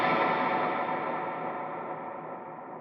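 Electric guitar swell with hall and bloom reverb stacked, a dense washy sustained tone that slowly fades over about three seconds with no attack, alone.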